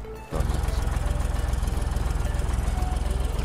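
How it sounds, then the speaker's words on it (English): Tractor engine idling in the video game Apocalypse Rising, a steady rhythmic low chugging that starts abruptly after a brief moment and then continues evenly throughout. "tractor doesn't go faster on top"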